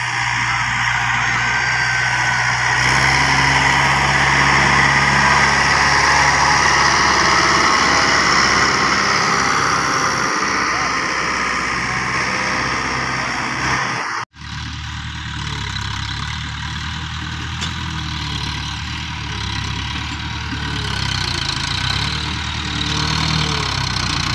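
A repainted tractor in good mechanical condition idles in a steady, continuous engine drone close by; the tone shifts abruptly after a brief cut midway, then the idle carries on.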